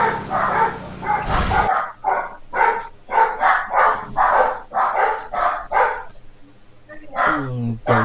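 A dog barking repeatedly in Half-Life 2, a rapid run of loud, close barks with a brief burst of noise at the start and a short whimpering yelp near the end.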